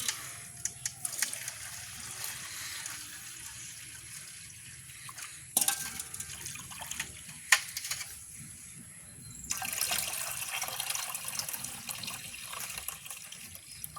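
Water splashing and trickling into a container of soaking lentils, with a few sharper pours and clinks standing out from a steady wet wash.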